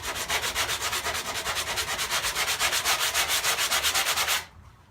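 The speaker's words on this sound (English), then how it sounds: "sand it away." A sanding block is worked back and forth over a solid core exterior door in about twenty quick, even strokes, close and steady, then it stops abruptly just before the end.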